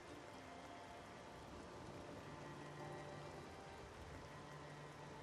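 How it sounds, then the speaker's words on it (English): Steady rain falls in the video game Oblivion, a soft continuous hiss with faint patter that stays even and fairly quiet throughout, with no voices. "it is raining"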